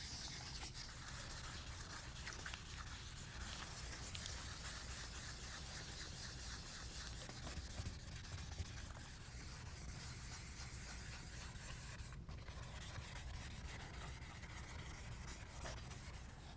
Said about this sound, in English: So what we're using now is some of the gray scuff pads.